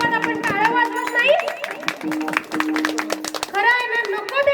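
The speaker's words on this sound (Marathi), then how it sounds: "ज्या ज्या वेळेस भजन होईल त्या वेळेस तरी टाळी वाजवा" During a devotional Marathi kirtan, an audience claps hands in rhythmic taps beneath a sung, sustained voice that carries over them, the clapping fairly close and continuous.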